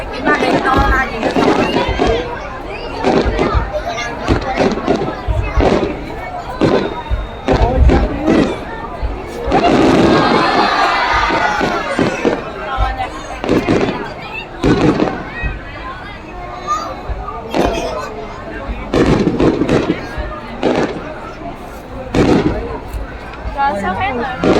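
Fireworks at the Đền Đô temple festival in Vietnam, sustained volleys of booms and sharp crackles for over twenty seconds over a noisy crowd, with people talking close by.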